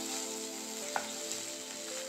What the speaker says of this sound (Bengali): পেঁয়াজ, রসুন, আদা আর টমেটো খুব ভালো করে আমি কষিয়ে নিয়েছি।